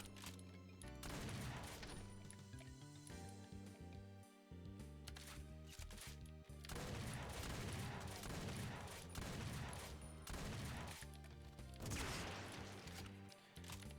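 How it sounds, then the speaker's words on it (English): Shotgun blasts in the Doom map Lost Civilization, a repeated heavy firing pattern that stays loud over constant game music and effects, with no pauses in the din. "My God, that shotgun."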